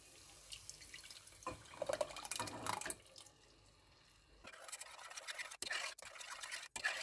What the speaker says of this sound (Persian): توی این مرحله آب تمر هندی که داریم رو اضافه میکنیم.